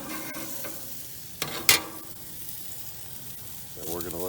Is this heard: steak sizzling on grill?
yes